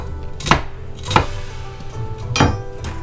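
Onions cut into big chunky pieces with a knife on a cutting board, three or four distinct loud chops spaced irregularly, close up, with no talking.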